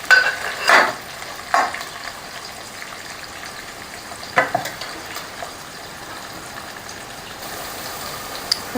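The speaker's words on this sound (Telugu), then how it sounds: "ఇందులో మనం అల్లం వెల్లుల్లి పేస్ట్ వేసుకుందాం ఫ్రెండ్స్." Ginger garlic paste frying in a pan with onions and green chillies, a steady close sizzle with a few louder stirring scrapes near the start and midway, no voices.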